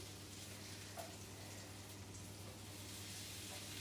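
Potato rosti frying in a pan over slightly lowered heat, a steady low sizzle running continuously and fairly quietly, with no voices.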